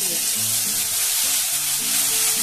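Ground spice paste fries in a little oil with black cumin seeds, a loud, steady, close sizzle that runs the whole time, with faint tonal background sound underneath.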